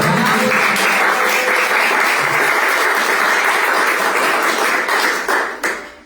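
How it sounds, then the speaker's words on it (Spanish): Loud, close audience applause at a children's book presentation, a sustained wash of clapping hands that holds steady for several seconds before tapering off at the end. "Un aplauso, por favor."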